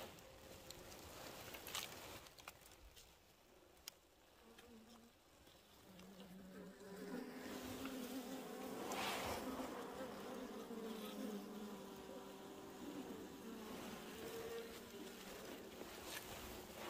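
Native honeybees buzz in a steady, dense drone around their hive, swelling louder and fuller about halfway through and holding a sustained hum to the end.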